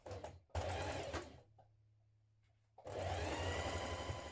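A sewing machine stitches an underarm seam in two fast, steady whirring runs, close and clear, separated by a quiet pause.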